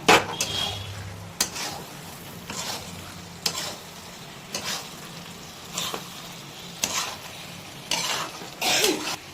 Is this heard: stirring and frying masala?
yes